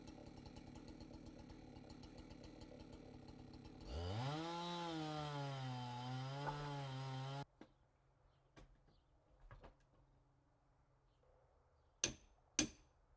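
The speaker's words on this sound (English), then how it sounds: "I just got a chainsaw." A chainsaw cutting a log top to bottom, its engine droning steadily and then rising in pitch as it bites, cutting off abruptly, followed by quiet knocks and a couple of sharp thuds.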